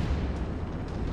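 Chain cannons fire in a mech combat video game, a rapid run of heavy booming shots blending into a continuous rumbling barrage.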